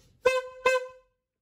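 Two short, bright honks from a toy-like horn in quick succession, followed by silence.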